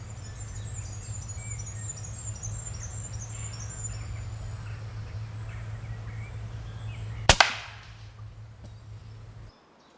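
An air rifle shot from a Gamo Maxxim Elite at a squirrel during summer squirrel hunting outdoors: one sharp, sudden report cuts through steady insect and bird ambience, followed by a brief fading tail.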